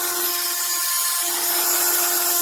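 A Hardell 12V cordless, USB Type-C rechargeable mini rotary tool with six speed settings runs with a loud, steady, high-pitched motor whine that holds unbroken throughout, with no other sound over it.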